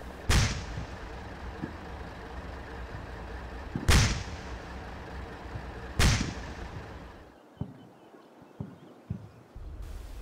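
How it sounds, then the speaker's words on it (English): A light mortar barrage in a war strategy game lands as three heavy, distinct booms about two seconds apart, each with a rumbling tail. Fainter thuds and pops follow afterward. "a light mortar barrage puts down harassing fire across the field"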